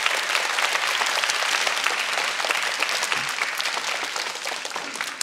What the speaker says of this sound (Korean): 아유, 박수 감사합니다.